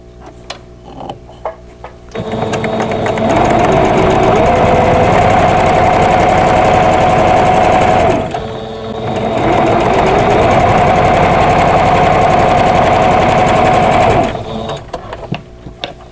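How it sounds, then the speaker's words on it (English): A sewing machine runs steadily and loudly while joining squares for a vintage quilt block. Two long continuous runs are separated by a brief pause, with lighter handling clicks before and after. "I'm going to sew a square to the opposite side"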